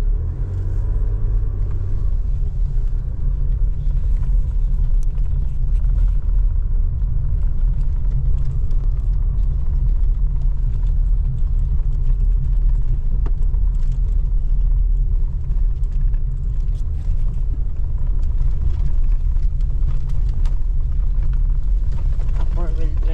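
A four-wheel drive vehicle rolls along a rough road near Sual, Pangasinan, giving a steady loud low rumble of engine and tyres with its suspension working, while people talk inside over the noise.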